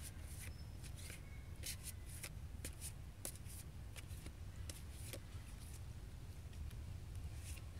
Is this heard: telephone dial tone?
no